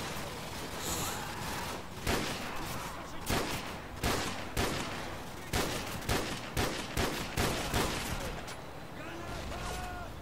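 Gunfire in Call of Duty 4: Modern Warfare on Xbox 360, loud sharp shots and bursts coming in irregular bunches, some rapid automatic fire, with a player's voice talking alongside.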